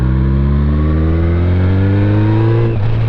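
A 2007 Yamaha FJR1300 motorcycle engine pulls hard in top gear, a loud, steady close-up drone whose pitch rises smoothly throughout, with a brief dip near the end.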